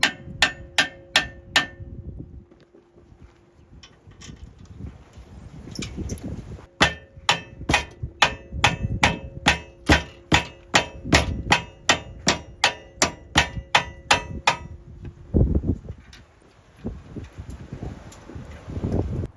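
A winch bumper on a 3rd-gen Toyota 4Runner is hammered into place: bursts of sharp metallic clangs in quick rhythmic runs, loud and close, separated by short pauses with faint handling noise.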